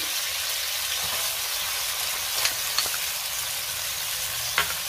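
Garlic, capsicum and carrots stir-fry in hot oil for fried rice, a dense continuous sizzle close up with a few brief spatula taps against the pan.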